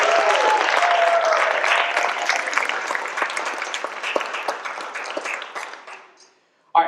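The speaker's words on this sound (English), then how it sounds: "And so can we just clap it up for these students?" Audience applause for student performers at a high school fall jazz concert, a dense, steady burst of clapping that thins and fades out toward the end, followed by a short sound.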